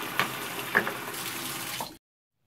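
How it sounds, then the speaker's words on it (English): Cold tap water runs into a small cup in a sink for rinsing out blue hair dye, a steady gushing stream with a few splashes before it stops abruptly. "I take a cup and any little cup will do, you know, just fill it with some cold water"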